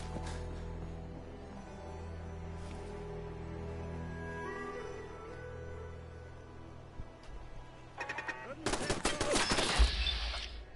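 Automated turret fire in Fallout 4: after a stretch of ambient game sound, a quick cluster of sharp shots breaks in near the end, loud and close, overlapping with other impacts.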